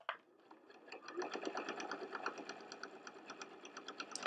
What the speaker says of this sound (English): I'm going to keep sewing until I get there